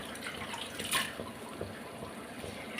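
Spinach greens being rinsed in water, giving soft, faint trickling and splashing with small drips and a brief louder splash partway through, alone without talk.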